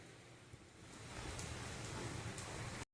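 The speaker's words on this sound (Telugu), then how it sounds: "బయట వర్షం పడుతుంది" Rain falls outside in a steady, hissing wash that thickens slightly as it goes, soft and distant, with a few faint patters on surfaces and no voices.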